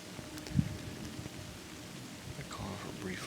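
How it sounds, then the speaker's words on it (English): Brief rain shower pattering on the woods around a hunter's ladder stand, a soft steady hiss of drops with a faint bump early on and quiet background. "Oh, here comes rain."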